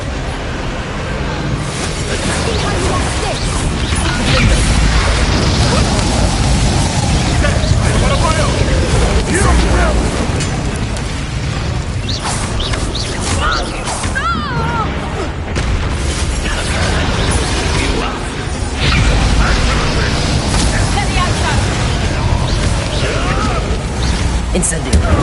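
Spell blasts and explosions in the Hogwarts Legacy video game, with repeated booms and bursts over a dense, loud mix of combat noise and game voices.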